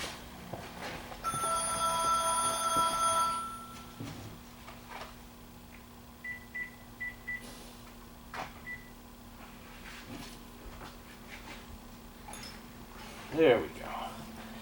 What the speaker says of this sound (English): the phone's going to ring for about 15-20 minutes till I turn it off.